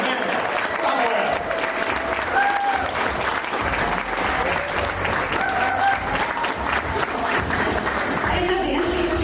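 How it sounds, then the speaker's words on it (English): An audience at a pitch event gives a warm round of applause for a speaker, sustained loud clapping filling the room with a few voices and cheers mixed in. "Can we please give a warm round of applause for Amanda Stockwell?"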